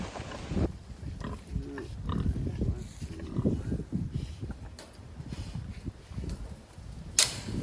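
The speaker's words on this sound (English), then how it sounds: "Now we gotta get that pig to come through this opening" Pig on a farm, grunting and snorting up close in short, irregular bursts, mixed with scuffling, knocks and a sharp click near the end.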